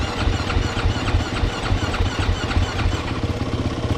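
A KTM SX-F 450 dirt bike that had a no-crank problem cranks over on the starter with the choke out, a loud, close, rapid rhythmic chugging that continues steadily without talk.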